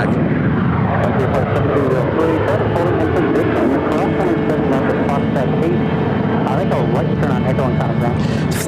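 Delta Airbus A330-300 widebody jet, 17 years old, near the gate at Phoenix, with a steady loud engine roar and whine throughout, overlaid by voices talking and repeated clicking or clattering.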